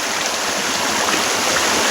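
Steady, loud rushing of water pours at the Adakode Chola falls, a dense continuous roar heard up close with no speech.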